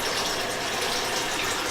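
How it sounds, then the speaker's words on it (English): A bathroom faucet runs at full flow, a steady hissing rush of water filling the space, close and unbroken with no voices. "We're gonna do it with the faucet on"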